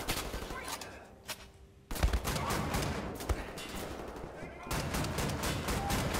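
Shotgun gunfire in Wolfenstein: The New Order, a string of sharp, loud blasts in quick bursts with a short lull before a heavier flurry of rapid shots, and a voice shouting among the fire.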